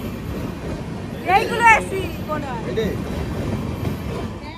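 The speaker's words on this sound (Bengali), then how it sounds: "তো আমাদের ট্রেন চলে এসেছে।" A passenger train bound for Delhi pulls into a station with a steady rumble and rattle of cars, a bright squealing screech of brakes rising briefly midway, while people talk nearby.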